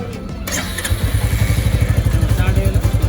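A Royal Enfield Classic 350 in Stealth Black idles after starting, its single-cylinder thump settling into a steady, close, loud putter after a brief rattle at the start.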